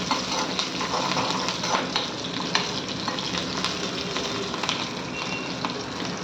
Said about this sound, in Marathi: जिरे घातल्यावर मी कढीपत्ता आणि मिरची घातली आहे.